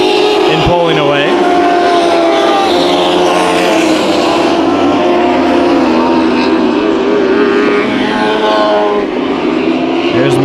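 Race cars in a Bakersfield Speedway heat race roar continuously around the track, a loud sustained engine drone with shifting pitch as they pass, under steady commentary.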